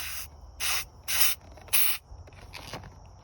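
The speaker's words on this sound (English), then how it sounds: "I just want to see butane be sprayed into onto this" Butane sprayed from a can in bursts, four strong hissing blasts followed by a weaker sputtering spray, close and alone with no talk.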